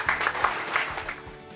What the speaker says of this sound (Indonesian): boleh berikan tepuk tangan dulu untuk kita semuanya